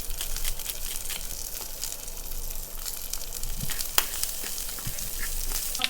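Corn charring in a hot pan with onion just added, giving a steady close sizzle with a few sharp pops and crackles scattered through.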